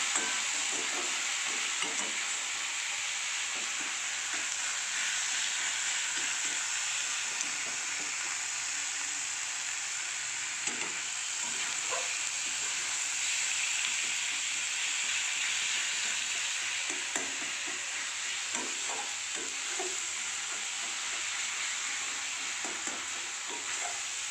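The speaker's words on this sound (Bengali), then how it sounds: "আমার মশলা ভাজা মোটামুটি হয়ে এসেছে" Steady sizzling of a spice paste with Kashmiri chilli frying in oil, with a spoon scraping and stirring through it at irregular intervals, continuous and fairly close.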